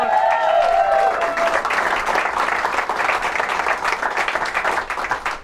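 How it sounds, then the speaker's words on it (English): Rally crowd in Corona applauding law enforcement personnel: loud, dense clapping and cheering that holds steady and close for the whole stretch, easing only slightly near the end. "let's give our law enforcement personnel a huge round of applause"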